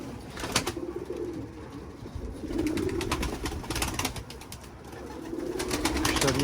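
Soft, low turtle dove coos repeat in rhythmic phrases at close range, with outdoor rustling and occasional sharp clicks around them.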